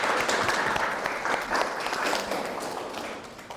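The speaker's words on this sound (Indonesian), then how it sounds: "Tepuk tangan untuk kelompok 1." A classroom of university students applauds a student group after its presentation, a sustained crowd of claps that slowly fades toward the end.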